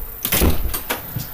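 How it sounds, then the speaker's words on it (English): A door is pushed shut indoors, giving a couple of quick close thumps and a rattling knock within about a second, fairly loud against a quiet room. "Shut the door, I'm sorry."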